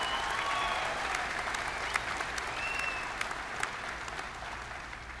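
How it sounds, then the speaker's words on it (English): A large audience at a WGU commencement ceremony in 2014 applauds the graduates, a steady, dense round of clapping that fills the hall evenly from start to end, moderately loud and heard from some distance with no speech. "let's give our graduates another round of applause"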